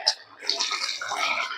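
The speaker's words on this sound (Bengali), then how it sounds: "দিয়ে দেবো ভেজে রাখা মাছগুলো।" Fried dried hilsa pieces go into a pot of boiling curry broth with eggplant and potato, giving a soft close splash followed by steady bubbling and sizzling.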